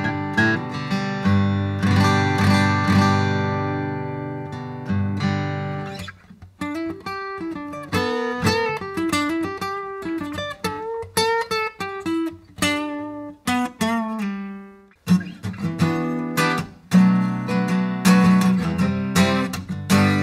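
An Epiphone Slash J-45 acoustic guitar rings out with strummed chords and picked melodic runs, bright and close, played alone for about twenty seconds with brief pauses between phrases.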